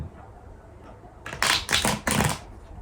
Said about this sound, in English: Give the cards a nice shuffle.